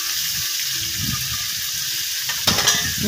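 Beef frying in mustard oil in a kadai gives a continuous crackling sizzle up close, swelling into a louder spitting burst of stirring toward the end.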